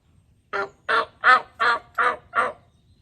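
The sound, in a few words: crow call device imitating crow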